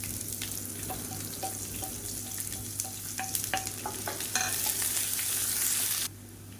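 Chopped onions frying and being stirred in a pan with golden chana dal while cooking a beans masala poriyal, a steady sizzle with repeated scraping clinks of the spoon, close and alone, no talking.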